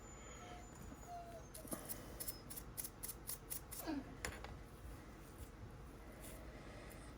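Scissors snip through fly-tying material while trimming tips and butts for a wedge head streamer, a run of sharp close clicks spaced through the middle, over a quiet room hiss with faint bird calls.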